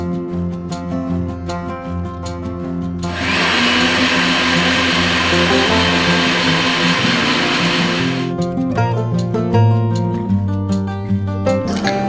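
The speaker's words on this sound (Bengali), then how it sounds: "এর মধ্যে 1 কাপ পরিমাণ জল দিয়ে ভালোভাবে ব্লেন্ড করে নিচ্ছি।" A kitchen blender whirs loudly for about five seconds, grinding grated coconut with water into coconut milk, with steady background music before and after the burst.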